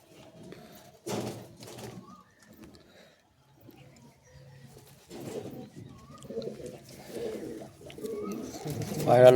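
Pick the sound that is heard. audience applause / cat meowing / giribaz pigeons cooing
giribaz pigeons cooing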